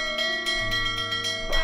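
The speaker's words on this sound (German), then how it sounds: "Na komm, nochmal läuten." A doorbell chime rings in the point-and-click adventure game The Whispered World, several bright bell strikes over a sustained tonal game music bed, steady and fairly loud, with no voices.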